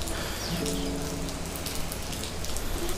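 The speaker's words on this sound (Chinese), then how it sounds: "又是一个下雨天的早晨啊。" Rain falls steadily on a rainy early morning, a soft constant patter of drops on surfaces with no voices.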